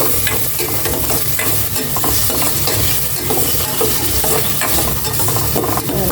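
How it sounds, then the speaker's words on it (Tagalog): Loud, continuous sizzling from ingredients being sautéed in a pan ahead of adding half a kilo of mussels, with a dense frying hiss and occasional scraping stirs, close up and without talk. "Gisa ko na itong maigi"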